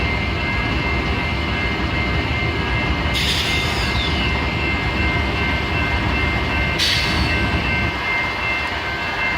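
A big Norfolk Southern freight train, led by a GE CW-type locomotive, rumbles past in Mount Pleasant, Texas, as a loud, steady roar of engine and rolling wheels that holds throughout, with two sharp hissing bursts partway through.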